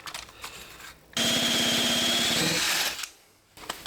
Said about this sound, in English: I'm drilling a hole through our oak floor.